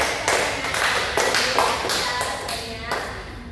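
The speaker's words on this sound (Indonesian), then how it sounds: "Oke, kita kasih aplaus." A small group in a classroom group-counselling session claps together, a dense run of hand claps that is moderately close and steady for a few seconds with no talk over it.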